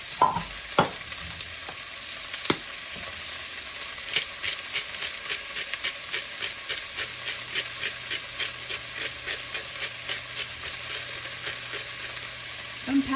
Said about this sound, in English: I'm going to saute up the peppers and onions.